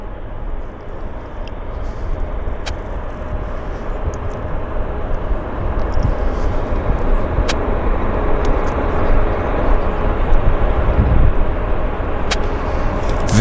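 Fiji Airways airliner taxiing slowly at an airport, a steady broad jet engine whine and rumble that grows slightly louder over time, with faint clicks.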